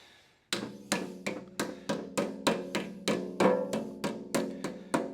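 Steady hammer blows on sheet metal duct held in a brake while forming an HVAC elbow with a radius heel, about thirteen sharp metallic strikes in an even rhythm, close and clear with no talk.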